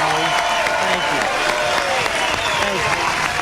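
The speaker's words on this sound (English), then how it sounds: "Give them a big round of applause." Crowd applause at a 1994 election night speech, steady dense clapping filling the hall with cheering voices mixed in throughout.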